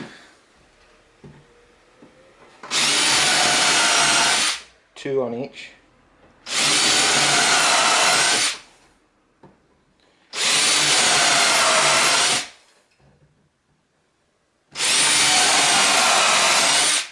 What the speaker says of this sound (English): I'm going to pre-drill holes on all these vertical hangers.